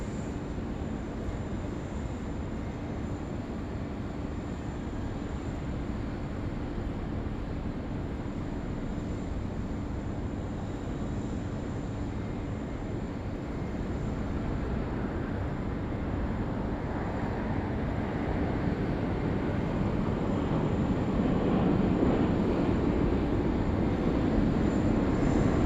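Qantas flight 128, an airliner in from Hong Kong, roars steadily at Sydney Airport during the morning rush, a broad continuous engine rumble that swells gradually toward the end with no talking.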